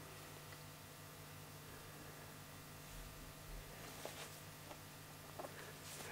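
A steady low electrical hum from a fluorescent overhead light drones throughout beneath faint background hiss, with a few soft taps and rustles near the end.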